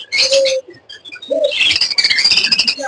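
Pet budgerigars chattering and chirping close up, bright warbling bursts and quick tweets tumbling together, loud and busy, with no voices.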